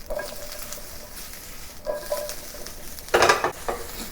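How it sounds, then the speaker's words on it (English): Mushrooms sauté with garlic in oil in a small pan, a soft continuous sizzle with occasional stirring scrapes and a louder utensil clatter near the end. "And keep moving the mushroom so that the mushroom will not get burned at the bottom."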